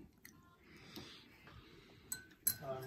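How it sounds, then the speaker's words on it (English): A spoon stirs a large cup of drink at home, giving a few light clinks against the sides, faint and close, with soft background noise around it. "Can I give yours a little stir?"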